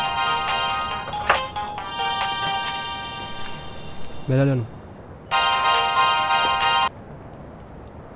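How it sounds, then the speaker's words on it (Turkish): A telephone rings in bursts during a Turkish TV drama scene, with a gap between two ringing phrases, while people talk and a voice speaks briefly between the rings. "Hadi çocuklar. Açın şu telefonu."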